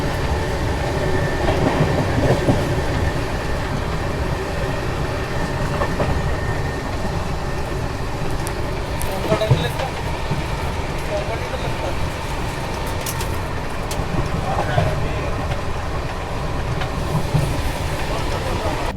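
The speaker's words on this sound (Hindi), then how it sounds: "जबरदस्त फ्लैट 130 पर गाड़ी भाग रही है" An AC Duronto Express from H. Nizamuddin to Pune runs flat out at about 130 km/h, giving a steady heavy rail rumble with scattered clicks and clacks from the wheels over nineteen seconds.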